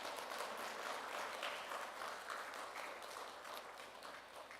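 Steady applause from a church congregation, a dense wash of clapping lasting several seconds at moderate, even loudness and tapering slightly toward the end.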